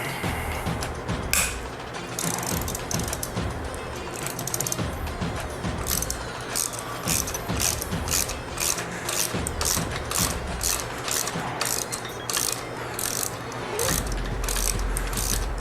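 A ratchet wrench clicks in a steady series of short, bright ticks while loosening a Loctite-secured bolt on the air cleaner of a 2022 Harley-Davidson Road Glide ST, close and fairly quiet, with no speech.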